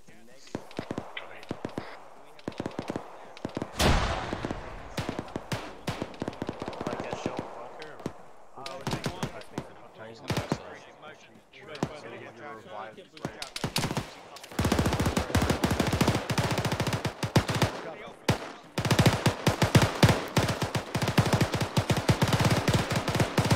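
Gunfire in the ArmA 3 video game, sharp single shots and rapid automatic bursts, some distant and some close, scattered through the whole stretch and growing denser toward the end, with voices talking between shots.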